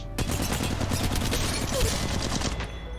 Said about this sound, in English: We're gonna shoot this dummy right here.